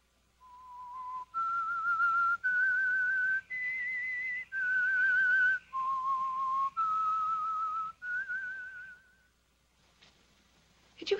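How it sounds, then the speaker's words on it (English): A person whistles a slow, clear melody in a radio drama, long sustained notes stepping up and down in pitch, alone and fairly close, ending in quiet. "Did you hear someone whistling?"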